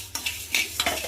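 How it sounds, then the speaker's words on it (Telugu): Coriander seeds and cumin dry-roasting in a kadai for tomato rasam, heard as a few quick metallic scrapes and clinks of a spoon stirring the seeds, close and brief. "ఇప్పుడు ఇదే కడాయిలోకి 1 టేబుల్ స్పూన్ ధనియాలు, 1 టేబుల్ స్పూన్ జీలకర్రని కూడా తీసుకొని లైట్గా వేయించుకోవాలి."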